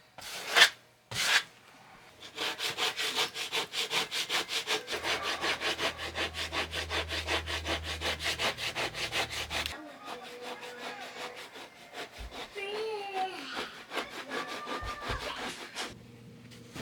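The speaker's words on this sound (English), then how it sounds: "all I'm doing now is I'm scraping the skin part of the hide" Rhythmic scraping of the skin side of a tanned deer hide, a fast steady series of rasping strokes that runs for several seconds, then lighter intermittent scrapes with some squeaks, close by.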